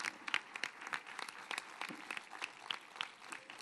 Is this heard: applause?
yes